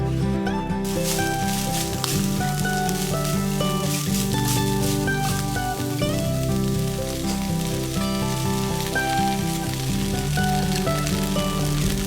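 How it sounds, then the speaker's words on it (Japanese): Pea shoots stir-frying over medium heat in sesame oil in a frying pan, a dense continuous sizzle with crackling pops and occasional scraping clatter, close and steady throughout with no voices. "フライパンにごま油を熱し豆苗がしんなりするまで中火で炒めます。"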